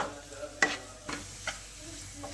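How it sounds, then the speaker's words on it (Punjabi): Besan bhurji is stirred into spices in a pan over a low flame: a few soft scraping spatula strokes sound over a quiet, steady sizzle, close and fairly faint. "ਮਸਾਲੇ ਦੇ ਵਿੱਚ ਆਪਾਂ ਚੰਗੀ ਤਰ੍ਹਾਂ ਮਿਕਸ ਕਰ ਲੈਣਾ ਜੀ ਇਹਨੂੰ ਰਲਾ ਲੈਣਾ ਚੰਗੀ ਤਰ੍ਹਾਂ"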